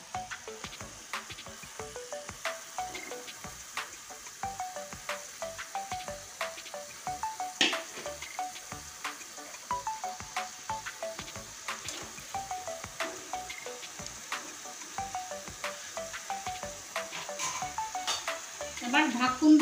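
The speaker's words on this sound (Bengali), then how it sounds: "এবার এখানে ভেজে রাখা রূপচাঁদ মাছ, এটাও দিয়ে দিচ্ছি।" Fried rupchanda fish sizzles in a pan of hot spice masala, giving a steady, fairly quiet crackle and spatter with frequent small pops and clinks from a utensil stirring throughout.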